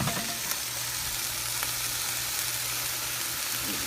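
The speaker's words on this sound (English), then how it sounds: "Okay, so adding some minced garlic in here." Minced garlic fries in a pan with a dense, even sizzle that stays fairly loud and close throughout, broken only by a faint tap or two and no voices.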